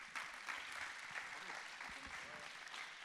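At an Innov'Space 2020 trophy award ceremony, an audience claps in a dense, steady round of applause that fills the hall and holds at an even level throughout.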